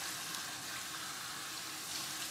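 Cool water pours and glides over curly 3C/4A hair during a wash routine, making a soft, steady close-up hiss and trickle with no break.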